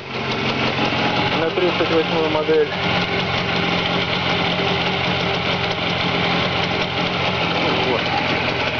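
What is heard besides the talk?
Jawa 638 motorcycle engine running on a test stand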